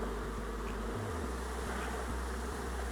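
Honeybees buzzing around hive boxes, a dense continuous drone with occasional individual bees passing nearby, steady and moderately quiet.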